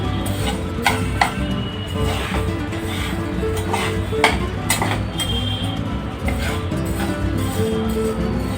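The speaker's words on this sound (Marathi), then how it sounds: "चला तर मग आता आपण दुसरी डाळ भाजूया" Dal dry-roasting in a pan for chakli gives continuous close scraping and rustling as it is stirred, with light clinks of a spoon against the pan throughout.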